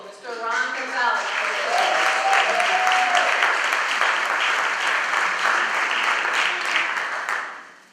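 Applause at a school board meeting greets high school candidates: a dense, sustained wash of many hands clapping over several seconds, with a voice speaking at the start before the clapping swells and then fades.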